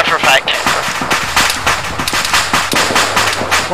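Artillery barrage in the military video game Arma 3, a rapid series of sharp blasts and cracks across the whole clip, layered with voices talking over radio chatter throughout.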